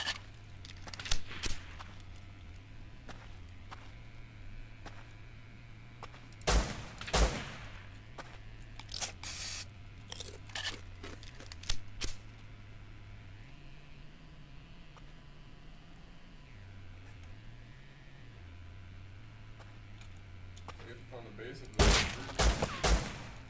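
Video game shootout with bursts of rapid gunfire crackling at a few points, loud and close, while players talk over a steady low game drone.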